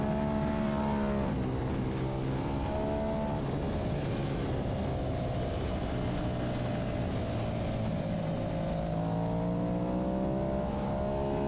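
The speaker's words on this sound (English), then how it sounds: "Coming up to 9, 5th gear, wicking it on" Aprilia RS660 sport bike accelerating on a race track in fifth gear, a continuous loud engine whine rising and dipping in pitch with wind noise, steady throughout.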